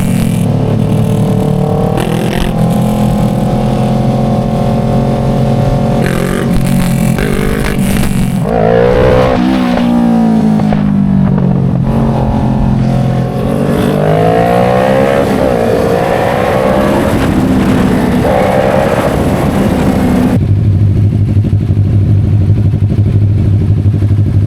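Motorcycle engine while riding, a steady throaty drone with rising and falling revs and wind buffeting throughout, ending in a lower, smoother idle-like hum near the close.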